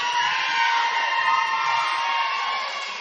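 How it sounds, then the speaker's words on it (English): A high school volleyball crowd from West Elk at a 2A sub-state match cheers and screams in a sustained, loud roar that fades slightly at the end. "There you hear the West Elk crowd."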